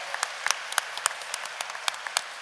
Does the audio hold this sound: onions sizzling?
no